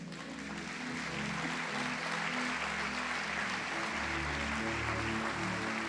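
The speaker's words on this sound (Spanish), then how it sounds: "Si ese aplauso es para Él, que sea fuerte, fuerte." Congregation applause at a church congress, a sustained roar of many hands clapping in a large hall, even and dense throughout, with a low organ-like musical tone humming beneath it.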